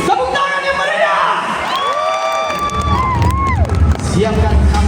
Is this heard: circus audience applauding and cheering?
yes